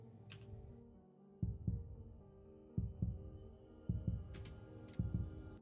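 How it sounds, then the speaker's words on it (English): A heartbeat sound effect from an animated trailer pulses in quiet, evenly spaced double thumps, soft and close. "And the heartbeat going faster?"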